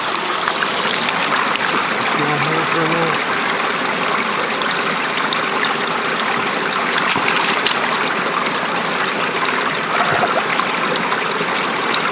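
Creek water flowing over rocks near a ram pump, a steady close rushing and trickling wash that holds evenly throughout with no talk.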